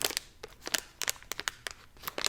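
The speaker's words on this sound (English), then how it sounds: "I don't like plastic sounds." Plastic packaging crinkles and crackles in quick irregular bursts during the unboxing of blind boxes, close and crisp, with no speech.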